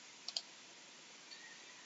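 A computer mouse gives two quick, close, quiet right-click taps in a near-silent room, followed by a soft faint tick.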